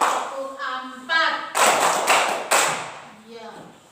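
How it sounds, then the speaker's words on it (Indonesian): A few sharp group hand claps burst out in a classroom, set between spoken voices that come before and after them. "Tepuk 1. Tepuk 2. Tepuk 3. Tepuk 4."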